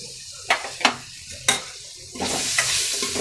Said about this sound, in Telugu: ఈ టమాటోస్ కూడా బాగా ఫ్రై అవ్వాలండి